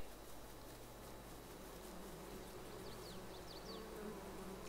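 Bees buzz steadily around the hives in Farming Simulator 22, a continuous droning hum with a few brief higher-pitched chirps over a constant low background tone, with no talking.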